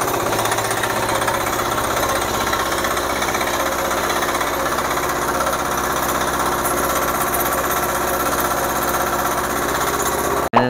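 A power weeder's small engine runs in a flooded field, a loud, steady, rapid chugging rattle that holds unchanged for about ten seconds before cutting off abruptly at the end.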